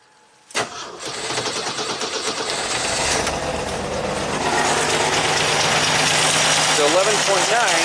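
A 1985 Jeep CJ-7 Renegade engine cranks and catches with a sharp start, then settles into a steady, close, loud idle that continues to the end, with a voice speaking briefly over it near the close.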